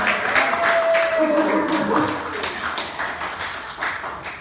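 An audience at a VFW comedy show claps for the comedians, a moderately loud burst of applause under a brief voice that thins out over a few seconds.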